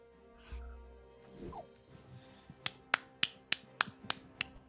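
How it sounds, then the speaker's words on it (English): Soft, quiet claps sound in a slow, evenly spaced series, about eight light pats after a couple of faint bumps. "Golf clap."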